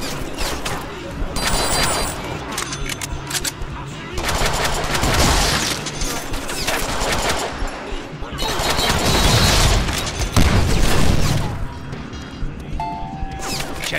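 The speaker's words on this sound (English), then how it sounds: "Now I have a machine gun." Bursts of machine gun fire in the Deadpool video game, loud rattling volleys with crashes mixed in, interrupted by brief pauses and heard alongside talking.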